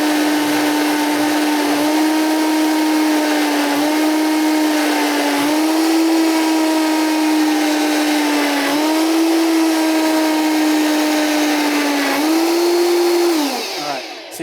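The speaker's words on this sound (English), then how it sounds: "So you kind of hear it when you go through the blender." A blender purees a mixture containing coconut milk, running as a loud, steady motor whine throughout, with brief dips in pitch every couple of seconds as the blend churns, then winding down at the end.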